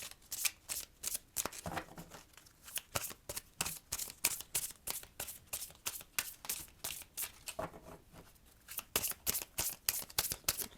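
Oracle cards are shuffled over and over at close range, making quick papery riffles and slaps in a steady rhythm with brief pauses, with no talking.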